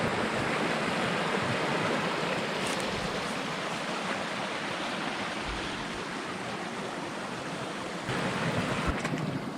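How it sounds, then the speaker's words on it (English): Steady, broadband rushing water fills the whole stretch, a constant roar from a waterfall on a creek, with no voices. "I think I hear a waterfall up ahead here."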